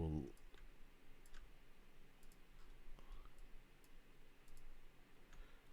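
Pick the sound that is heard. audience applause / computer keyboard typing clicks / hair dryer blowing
computer keyboard typing clicks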